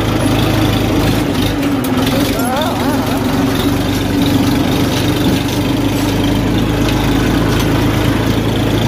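A farm tractor used for spreading fertilizer idles with a steady, loud, low engine rumble throughout while people talk over it.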